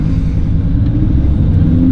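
A naturally aspirated Lamborghini Huracan accelerates hard, its engine a loud, close, rumbling drone that climbs in pitch toward the end, with no voices over it.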